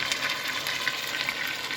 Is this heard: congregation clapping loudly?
no